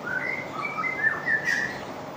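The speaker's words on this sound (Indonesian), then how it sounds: "Ketika dia sudah mulai nada birahi, nadanya itu nada birahi, lanjut ke ngekek nada kering." A lovebird sings its mating call, a run of bright, high chirps and whistled tweets in quick succession, close and clear with no talking.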